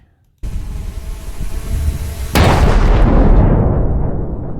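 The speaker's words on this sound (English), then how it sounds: "The ensuing explosion kills the North Korean soldier on the spot." A loud, sudden kamikaze drone explosion cuts in over a steady rumbling background, followed by a long, roaring decay; no speech.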